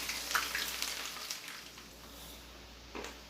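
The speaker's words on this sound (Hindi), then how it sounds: "ये इसमें हम 2 अदद प्याज जो हैं वो डालकर इसको अच्छे से ब्राउन कर लेंगे" Two onions browning in half a cup of hot oil for Afghani mutton pulao, a soft steady sizzle with occasional crackles, close and fairly faint.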